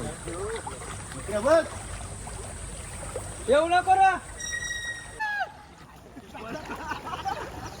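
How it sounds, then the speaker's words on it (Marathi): Swollen river floodwater rushes past a village ghat in a steady broadband wash, while people talk over it in short bursts. "भरपूर पाणी आलाय आम्ही नदीवर पाणी बघू शकता"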